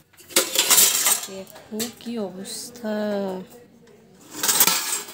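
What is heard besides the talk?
dishes and pans being picked up, clinking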